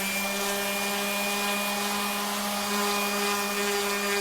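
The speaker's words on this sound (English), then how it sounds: "getting to the point where I can bust out the sander." A power sander with 220-grit sandpaper runs on the wood of an antique hutch, a steady, loud mechanical drone and buzzing hum, unbroken from start to finish.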